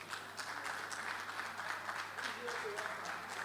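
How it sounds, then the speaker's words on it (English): Audience applause for the top five startups at a pitch competition, a steady wash of clapping from a room of people, fairly faint and continuous. "So a round of applause"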